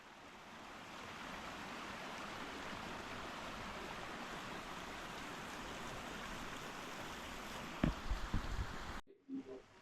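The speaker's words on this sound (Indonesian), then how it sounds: "di sini sudah dibuatkan pancuran air, dan ini air juga berasal dari mata air dan airnya tidak pernah berhenti" Spring water pours steadily from a spout at a campsite washing area, a continuous close splashing rush that carries on for most of the stretch, with a few louder spatters near the end before it cuts off abruptly.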